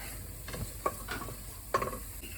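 Tomato paste stirred in a hot pan gives a quiet, close sizzle with a few soft scraping strokes of the utensil, and no voices.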